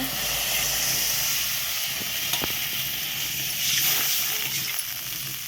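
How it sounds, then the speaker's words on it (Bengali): Water is poured onto hot sautéed spice paste in a pan for a fish curry, giving off a strong steady hiss of sizzling steam with a couple of faint metallic clicks. "এবার পানি দিয়ে দেবো।"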